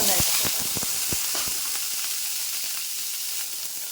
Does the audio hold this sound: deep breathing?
no